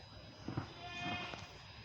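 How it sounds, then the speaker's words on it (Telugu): A goat bleats outdoors, heard as a couple of faint, short, wavering cries at some distance. "మేక అడుస్తుంది చాలా."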